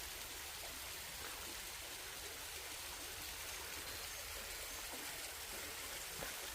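A mountain stream flows steadily beside a traditional Korean hanok house in a village, a continuous hiss of rushing water with no voices.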